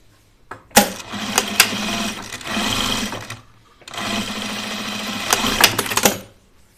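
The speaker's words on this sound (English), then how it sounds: "I'm just gonna sew these together first." Sewing machine stitching pieces of an oven mitt together, running in two steady bursts of a few seconds each with a short pause between, close and fairly loud, with no talking.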